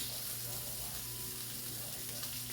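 A New York strip steak sears in a hot pan, giving a dense, even hiss that holds steady and close without breaks.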